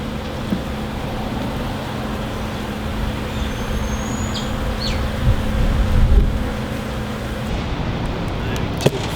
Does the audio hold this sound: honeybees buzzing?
yes